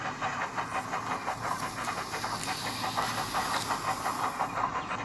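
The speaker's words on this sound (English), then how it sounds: "a cloud of steam whooshed out Shawal's funnel" Rhythmic chuffing bursts of steam from a steam locomotive in an animated Thomas short, with a hissing wash, a steady puffing beat repeating several times per second, moderately close.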